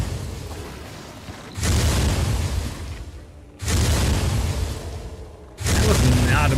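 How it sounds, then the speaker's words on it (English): Three heavy, booming explosions from the Shadow of the Road video game, each a sudden loud blast that holds and slowly fades, arriving about every two seconds over a steady background rumble. "that's a lot of explosions that are going to be going off."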